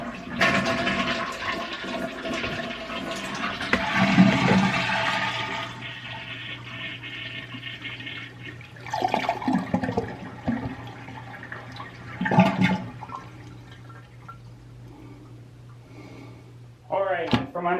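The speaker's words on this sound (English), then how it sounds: "we will go ahead and drain all the water out of the tank" A household toilet is flushed with its water supply shut off so the tank drains completely: a loud rushing flush that gradually fades into a gurgling, trickling drain, with some clunks of the lid and handle. No one speaks.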